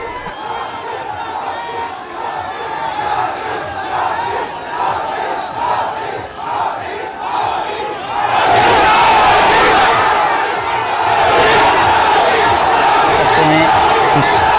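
A huge crowd cheers and shouts at CM Yogi's road show in Ahmedabad, Gujarat, in the Viramgam assembly area. A dense roar builds and swells louder in the second half, with whoops over the mass of voices.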